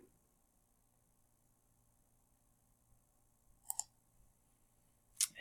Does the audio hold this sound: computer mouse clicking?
yes